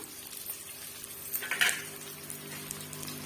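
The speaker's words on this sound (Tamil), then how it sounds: "சேர்த்துட்டு இதையுமே வந்து வதக்கி விட்டுடலாங்க" Onion and curry leaves saute in a pan with bitter gourd, a soft steady sizzle with light scraping stirs and a brief metallic clink of the spatula midway.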